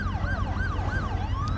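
An ambulance siren in the video game Driver: San Francisco wails loud and close in a steady rising-and-falling cycle over a low engine rumble.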